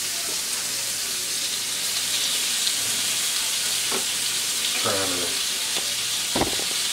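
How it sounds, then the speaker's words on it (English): Bacon slices fry in a heated pan with a dense, steady sizzle close by, broken by a few scraping stirs, while a voice talks briefly over it. "Just hear that sizzle."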